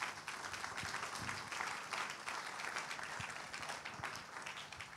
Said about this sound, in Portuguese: Um aplauso para o tremendo ministério.